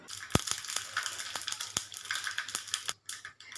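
Mustard seeds, about a teaspoon, crackle and pop in two spoonfuls of hot oil while a mango pickle is being made, with scattered sharp snaps over a faint steady sizzle, close and fairly quiet.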